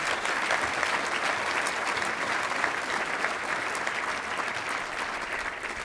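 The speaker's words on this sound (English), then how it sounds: "And if you all wouldn't mind, just a brief round of applause for Patrick's posse." At a charity foundation's annual awards dinner, an audience claps in steady, dense applause that fills the room, even and sustained for several seconds.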